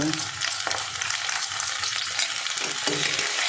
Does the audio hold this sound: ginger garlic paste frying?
yes